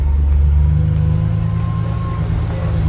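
A lowered car with a newly replaced engine idling loudly nearby, a deep steady rumbling drone with little change in pitch.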